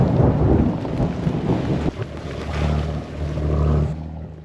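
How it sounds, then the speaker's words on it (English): A thunderstorm hits a sailboat at sea during an Atlantic crossing, with heavy rumbling thunder and rain over wind, loud at first and then easing to a lower, steadier roar. "we are currently in the middle of a thunderstorm. It's raining, it's windy, and lightning is just going off in all directions"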